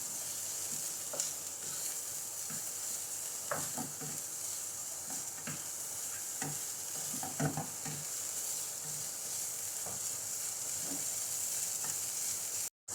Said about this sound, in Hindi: हम प्याज को सॉफ्ट होने और इसका कलर चेंज होने तक भून लेंगे।